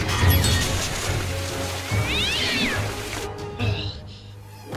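A cartoon cat, the villainous Evil Mittens from a Marvel superhero animation, lets out a loud, clear meow midway through, with busy action sound effects and a crash around it.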